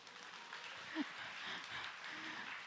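Church congregation applauding during a Sunday sermon, a soft, fairly distant patter of clapping that carries on steadily for a few seconds.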